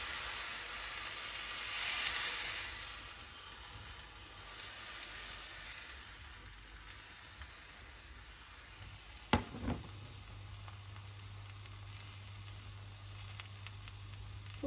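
Crêpe batter sizzling in a buttered pan, a steady soft frying hiss throughout with a couple of brief clinks from the pan midway.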